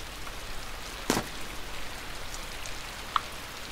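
Steady rain falls in the game INSIDE, a soft continuous hiss with one brief sharper burst early on and a faint isolated drip later, with no one talking.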